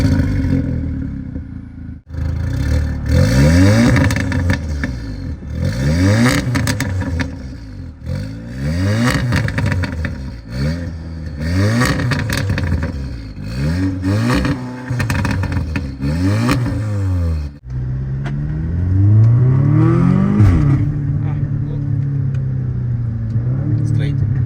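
Audi S3 car engine revving and accelerating in repeated surges from inside the cabin, with rising gear sweeps, then a steadier cruise near the end while people talk quietly.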